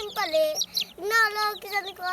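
Fayoumi hens clucking close by in a backyard flock, a few short, bright calls rising and falling in quick bursts across about two seconds.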